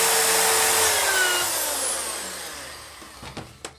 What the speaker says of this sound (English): Now let's get a power drill. Anyway, yeah, using a 4mm carbide bit.